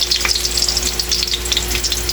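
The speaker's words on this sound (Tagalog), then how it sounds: "lagyan na po natin yung bawang. Isabay na po natin yung ating sibuyas." Garlic and onion sautéing in a hot pan, a loud continuous crackling sizzle heard up close with a low steady hum beneath, and no voices.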